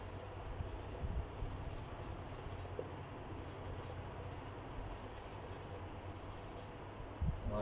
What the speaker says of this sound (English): Let me write down the question first.